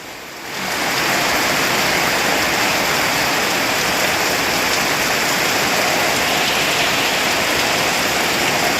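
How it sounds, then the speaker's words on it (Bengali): Heavy rain begins after a quiet moment and pours in a dense, even roar that stays loud and close throughout, with no talking. "এত পরিমাণে বৃষ্টি হইতেছে যে এত পরিমাণে বৃষ্টি শব্দ।"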